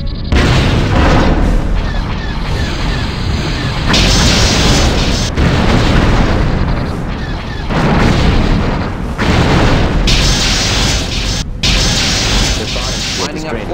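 Torpedo explosions boom repeatedly in a space combat game as a Refit Constitution Class starship fights TIE X1 and TIE Defender fighters, heavy rumbling blasts in rolling waves with a faint voice underneath.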